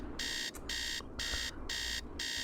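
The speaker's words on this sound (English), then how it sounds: "Let's set our alarm." An alarm clock in the Nancy Drew video game Treasure in the Royal Tower rings in four loud, evenly spaced electronic buzzes with short gaps between them.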